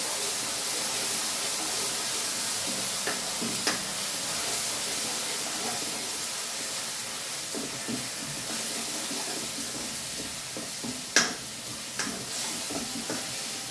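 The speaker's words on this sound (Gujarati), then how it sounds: "આ ડુંગળીની પ્યોરી એને આપણે સાત જ લઈશું અને આપણે તેલ છૂટું પડે બદામી નહીં થાય ત્યાં સુધી આપણે એને સાતવી લઈશું" Onion puree sizzles and spits steadily in hot oil while being sautéed for a green pigeon pea totha dish, with a few sharp stirring clicks and scrapes of the spoon against the pan, no talking.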